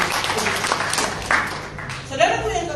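A church congregation at an Indonesian sermon applauds in a steady, moderately loud burst of clapping lasting a few seconds, with voices heard over it.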